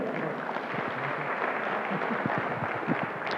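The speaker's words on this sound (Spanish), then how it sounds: "Fuerte aplauso a Óscar Manuel" Applause from a church congregation for a speaker, a dense, even wash of many hands clapping at moderate distance, sustained throughout without pause.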